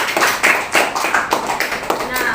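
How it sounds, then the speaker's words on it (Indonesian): A classroom of students applauds group 4, a burst of brisk, close hand clapping in uneven pulses lasting a couple of seconds, with voices audible underneath. "tepuk tangan untuk kelompok 4"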